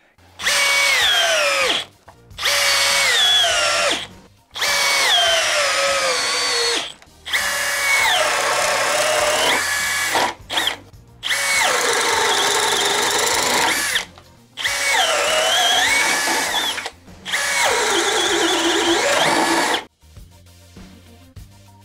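A compact $99 cordless drill runs in a series of loud bursts of two to three seconds each, its whining motor rising and falling in pitch between short pauses, with no voices.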